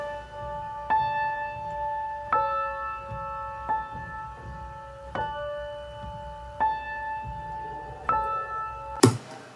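A piano chord track played back as originally recorded, two octaves high and four times fast, gives bright, thin chords struck at steady intervals, each ringing and decaying before the next, with a sharp click at the very end.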